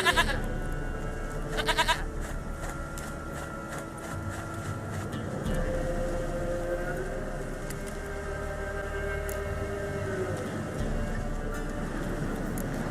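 Goat bleats from The Witcher 3 game, a few brief wavering calls amid a steady ambient game backdrop with low rumble, moderately loud and without talk.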